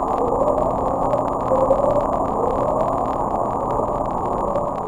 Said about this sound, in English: it's a series of short ascending tones repeated at intervals of several seconds